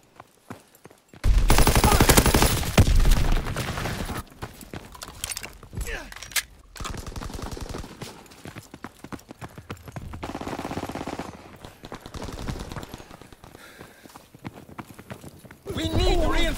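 Gunfire in the World War II shooter game Call of Duty: WWII during multiplayer, bursts of loud rapid shots with pauses between them, mixed with shouted voices and game noise.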